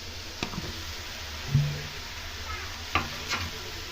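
Cabbage curry with potatoes is stirred in a wok over a low steady sizzle, with a few isolated scrapes and taps of the spatula against the pan.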